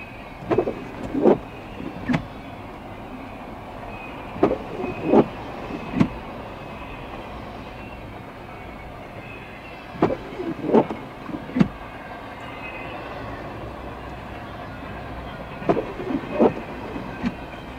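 A CSX freight train rolls past a railroad crossing in snow, with a steady rumble broken by repeated sharp clanks and clicks of the cars over the rails.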